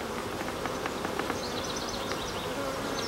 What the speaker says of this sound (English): this is a very nice colony. It's quite full of bees.